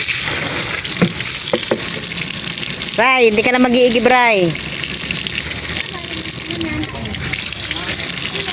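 Water gushes steadily from a newly connected water tank tap in a home kitchen, a continuous rushing stream running throughout while a voice briefly speaks over it midway.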